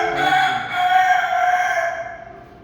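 A domestic country rooster crows once, close and loud, a long drawn-out call that tails off, with no talking over it.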